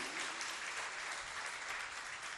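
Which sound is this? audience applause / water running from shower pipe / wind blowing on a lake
audience applause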